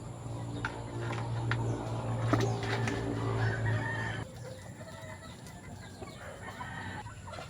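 Five-month-old gamefowl chickens cluck and murmur steadily in a backyard, several birds calling over a low hum that cuts off partway through, leaving quieter clucking.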